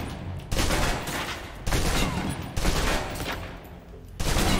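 A submachine gun in the spy game Alpha Protocol empties a full magazine in several loud, rapid automatic bursts separated by brief pauses, with no talking over the fire.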